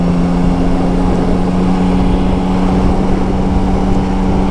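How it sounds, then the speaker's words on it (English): Yamaha Tracer 900 GT motorcycle exhaust, its note reverberating off the ground beneath the bike: a steady, loud engine hum with an even tone throughout, no talk. "The exhaust is directly underneath the bike, and it points at the ground underneath the bike, so it just sort of reverberates and comes right back at you."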